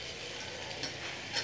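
Chicken mince and capsicum frying in a pan give a soft, continuous sizzle with light stirring scrapes, fairly quiet and steady throughout.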